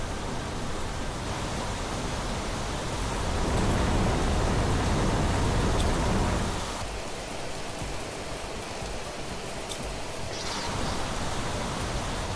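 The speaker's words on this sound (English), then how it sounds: "Here comes the rain." Steady rain in the Planet Crafter video game, a dense, continuous hiss of falling water that swells for a few seconds before settling back to an even wash. No voices are heard.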